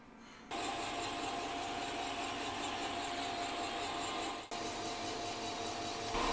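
A boring mill runs steadily, boring out an Audi RS3 engine block after engine failure, with a constant broadband mechanical whir and grind, one brief dip partway through, with no one speaking.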